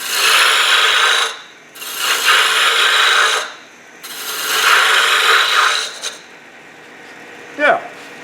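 A large roughing gouge cuts a spinning wooden gnome hat on a lathe, three loud rasping passes of a second or so each separated by brief pauses, then a short sharp knock near the end.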